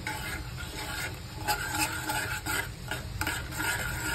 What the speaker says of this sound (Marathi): तूप आणि साखर, त्याच्यासाठी मी गॅसवर ठेवणार आहे आता हे। त्याचा पाक वगैरे करायचा नाहीये, फक्त वितळून घ्यायचंय।